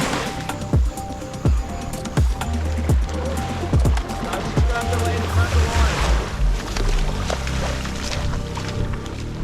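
Ocean surf breaking on a beach at night as the tide comes in, a loud steady wash with sharp knocks and thumps of gear being moved nearby, and people talking at times.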